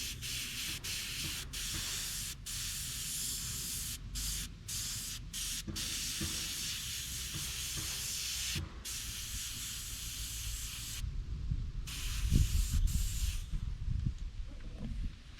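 Airbrush spray hisses steadily while misting paint onto a smallmouth bass fish replica, close and continuous with brief pauses and a low rumble near the end, no speech.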